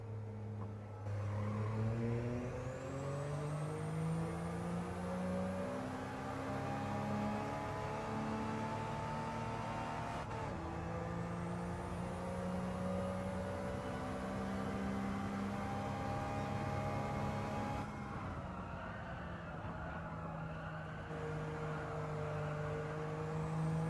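A race car laps the Tsukuba circuit, its engine note climbing through repeated upshifts and dropping between gears, loud and continuous as if heard from onboard, with no talking.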